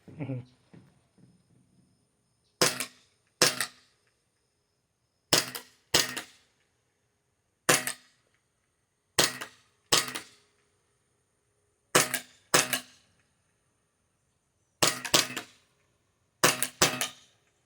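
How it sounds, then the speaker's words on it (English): Airsoft pistol fired at targets outdoors, sharp snapping shots mostly in quick pairs with pauses between, each crisp and close; speech is heard briefly at the start. "I've got a loaded airsoft pistol and I've got targets and shooting is fun"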